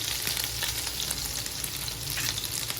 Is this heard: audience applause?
no